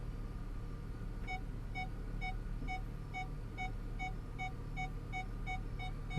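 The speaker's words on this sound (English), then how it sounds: "a solid beep means you still got a little bit of space" A Ford parking sensor sounds a series of short, evenly spaced high beeps, about two per second, fairly faint over a low car-cabin rumble.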